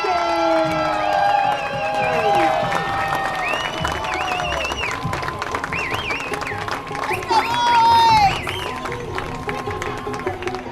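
Home crowd at a Tonganoxie Chieftains regional-round high school football game cheering and clapping as the team takes the field, a sustained roar from the stands with whistles and shouts rising near the end, under close commentary.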